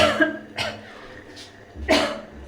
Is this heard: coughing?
yes